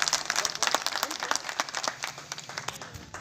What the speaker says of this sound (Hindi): देखिए ताली बजाइए